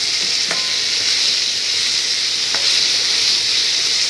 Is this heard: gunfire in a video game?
no